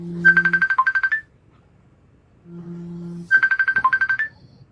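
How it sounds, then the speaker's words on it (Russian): Mobile phone ringtone playing twice: a quick run of bright electronic beeps preceded by a low tone, a short pause, then the same melodic pattern repeats, loud and close with no talk. "ტელეფონმა დავურეკა."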